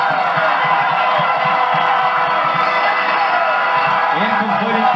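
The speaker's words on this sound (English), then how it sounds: "We just let the folks listen to the crowd right there" Crowd at a 1992 high school football game in Kannapolis, a loud continuous roar of cheering and yelling from a packed stadium, steady for the whole stretch with shouts rising near the end.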